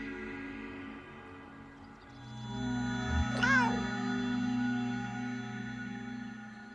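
A single short meow from a cat in the video game Kentucky Route Zero rises over a steady droning music bed, fairly clear and near, with no talking.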